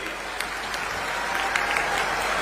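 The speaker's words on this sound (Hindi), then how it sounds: "एक बार जोरदार तालियों से स्वागत करिए।" Steady crowd applause greeting Rahul Gandhi at the Awaas Nyay Sammelan in Bilaspur, Chhattisgarh, a continuous wash of clapping that holds at an even, fairly distant level throughout.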